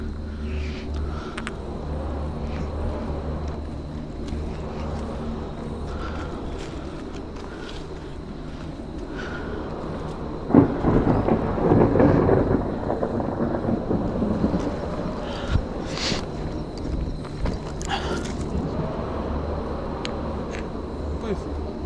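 Rain and rumbling thunder from a storm in a video game, with a low steady wash that breaks into a loud crack and rolling boom midway, then lighter rumbles; people talk throughout.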